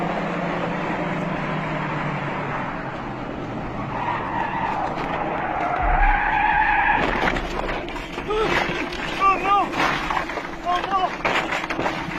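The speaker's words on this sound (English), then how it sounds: "He was left skidding towards the edge, all of which was captured on his dashcam." Car tires skidding on a mountain road as the vehicle slides toward the edge, captured by a dashcam; a rising screech and rumble grows louder midway, with sharp scraping squeals and a voice talking over the opening.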